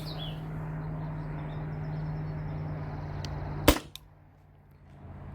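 A Valken M17 paintball marker with a TCR barrel, fed from a 700 psi tank, fires a single aluminum ball through a chronograph: one sharp crack over quiet background hum, then silence.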